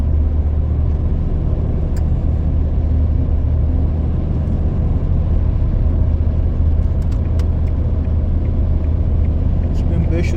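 A 2012 Ford Fiesta 1.4 TDCi 70 PS diesel hatchback picking up speed on the road, heard as a steady, loud low engine drone and road rumble from inside the cabin, with someone talking over it.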